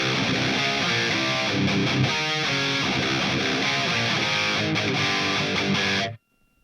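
Electric guitar played through a UAFX Anti amp with a ToneX capture pedal engaged, giving a scooped, gainy distorted tone; steady strummed chords and riffs ring out loudly for about six seconds, then cut off abruptly to silence.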